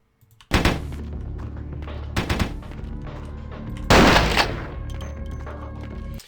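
Pistol shots ring out in Vampire: The Masquerade – Bloodlines, three loud, close blasts with long echoing tails over a steady low game background.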